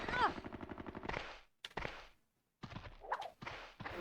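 Video game Hogs of War machine-gun fire comes in rapid rhythmic bursts, with short silent gaps and a final burst, loud and close, while a voice talks briefly over it.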